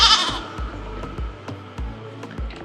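A dressed-up goat in Phuket's old town bleats in short wavering calls, with a brighter cry at the start and then a steady series of quick repeated bleats, fairly close and clear.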